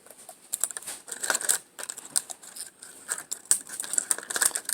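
Scissors snipping recycled plastic petals for a flower art project, a quick irregular run of small crisp cuts and crinkles, close and fairly quiet.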